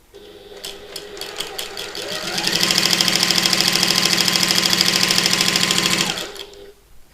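A sewing machine stitches a seam 1/8 inch inside the seam allowance on a fabric button lock bag, starting slowly, then running in a steady fast rhythm for several seconds before stopping.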